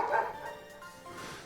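A dog-type Pokémon cry from the video game Pokémon Scarlet, a short yipping, whimpering bark that fades quickly after a brief loud onset, with no talk over it.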